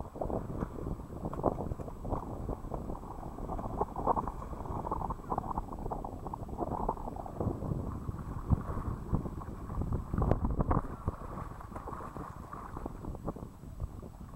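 A sailboat off the island of Endelave moves through wind, with continuous low, rough rumbling of wind buffeting the microphone and water sloshing throughout. No one speaks.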